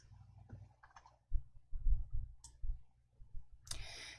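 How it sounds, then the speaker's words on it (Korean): A computer mouse clicks a handful of times, close and fairly quiet, in short separate taps with soft desk knocks and a brief rustle near the end, no voice heard. "병합 아이콘으로 클릭해 주세요."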